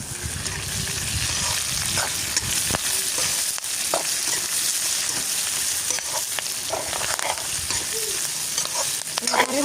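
Garlic and chili frying in a pan for a Sri Lankan tinned-fish curry, a steady loud sizzle with occasional stirring scrapes and clinks throughout, close and continuous with no talk.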